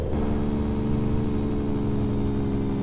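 Engine of a truck heard from inside the cab in American Truck Simulator, a steady droning hum with a thin high-pitched whine that falls away early on, continuous and fairly loud with no talk.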